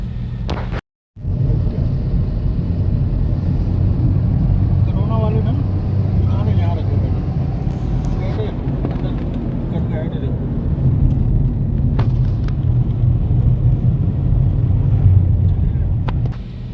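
Steady engine rumble of road traffic while stuck between trucks on the road, continuous and loud, with people talking over it throughout.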